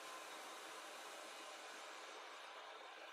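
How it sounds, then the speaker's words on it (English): A hair dryer on its cold setting blowing steadily over balsa wing covering, a constant broadband airy rush at moderate level with no pauses. "using the cold setting on the hairdryer to cool it down a bit quicker"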